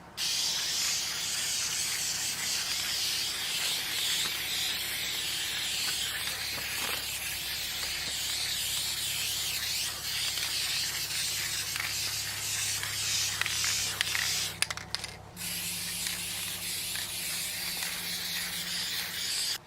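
Rust-Oleum spray paint hisses steadily from an aerosol can onto an air conditioner, a long close continuous spray broken by a brief pause near the end.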